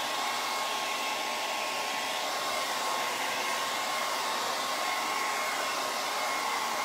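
A hair dryer blowing steadily on freshly painted wood for a faux pallet baby hanger, a loud, even, continuous whirring rush close by with no talking.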